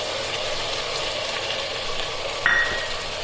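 Ground masala paste frying in a pan for mushroom biryani gives a steady, close sizzling hiss that holds evenly throughout, with a brief metallic clink near the end.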